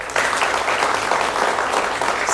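Studio audience at a televised democracy discussion applauds in a short, even burst of clapping, fairly loud and close, with no talk over it.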